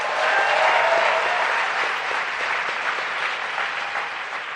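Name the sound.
audience applause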